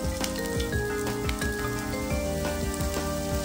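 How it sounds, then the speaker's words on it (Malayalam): Long-sliced ginger sizzles in hot coconut oil for a Kerala-style chicken roast. A steady, rain-like frying hiss runs throughout under loud background music. "ഇതിലേക്ക് 1 ടേബിൾ സ്പൂൺ ഇഞ്ചി നീളത്തിലരിഞ്ഞത്"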